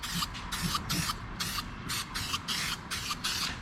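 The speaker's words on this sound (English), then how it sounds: "I'll give it a good shake off camera and spray those" An aerosol spray can lays a rust-preventive coating onto ground-back metal on a BMW E30 differential swap, sounding as a series of short, close hissing bursts of varying length separated by brief pauses, with no talking.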